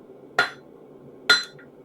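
Small forging hammer striking hot steel on an anvil, two sharp ringing blows about a second apart, close and loud with a brief metallic ring after each.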